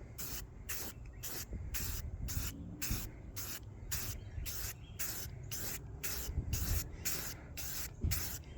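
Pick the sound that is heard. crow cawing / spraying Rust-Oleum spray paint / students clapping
spraying Rust-Oleum spray paint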